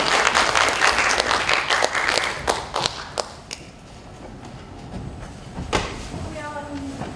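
Audience applause welcoming a poet back to the stage at a Seosan poetry festival's literary lecture, a burst of clapping that fades out over a few seconds, with a voice speaking briefly near the end.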